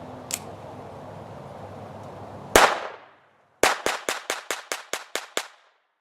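Rimfire gunshots from CCI Mini-Mag ammunition crack outdoors: one sharp report with a trailing echo, then a rapid string of about nine evenly spaced shots, each loud and ringing off.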